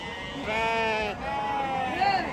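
Several sheep bleat in drawn-out, wavering calls close by, one after another, with voices in the background, at a large goat and sheep market in Chakan, Maharashtra.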